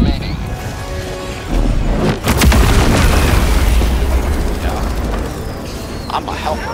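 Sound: grenade explosion in the video game Helldivers 2

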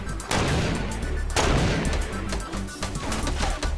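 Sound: gunfire in the video game Fortnite

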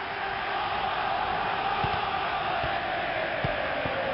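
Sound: stadium crowd in FIFA 2000 video game

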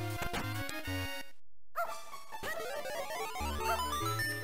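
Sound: dog barking in Zelda: The Minish Cap video game

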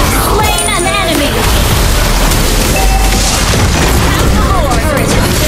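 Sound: turret destroyed explosion in Mobile Legends video game

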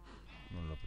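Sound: sheep bleating in the video game Minecraft

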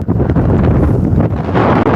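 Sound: strong wind blowing into the microphone

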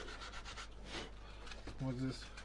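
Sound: sanding a carved wooden board with sandpaper

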